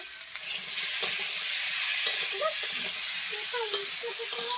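Petai curry with salt is stirred in a pan, a soft steady sizzle under a constant hiss with occasional light spatula scrapes, fairly quiet and close.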